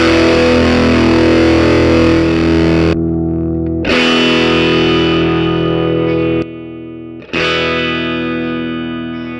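An electric guitar runs through a distortion pedal cranked to full gain, ringing out three loud, saturated chords. Each one sustains and drops into brief silence before the next hits hard.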